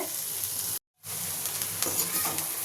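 Sliced bitter gourd frying in hot oil in a pan for a kakarakaya fry: a steady, close, bright sizzle that cuts off abruptly for a moment and then resumes, with faint crackles and no talking.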